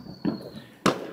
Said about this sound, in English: you can hear all the fireworks going off